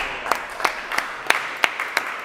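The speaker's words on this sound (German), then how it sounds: "Das macht ja dafür einen Applaus erstmal" Rhythmic hand clapping at a magic show, about three sharp claps per second, close and fairly loud, with no talking over it.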